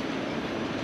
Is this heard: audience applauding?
no